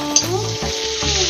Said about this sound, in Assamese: পিঁয়াজখিনি ভাজা হৈছে এইবাৰ আদা নহৰু পেষ্ট দিওঁ